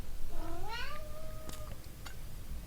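A pet cat named Viego lets out a single drawn-out, rising meow, close and clear over faint room noise, followed by a couple of small clicks.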